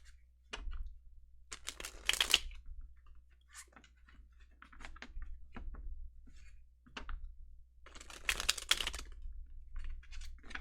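Quick papery riffles and soft taps of tarot cards being shuffled, coming in short bursts with pauses between, close and fairly quiet.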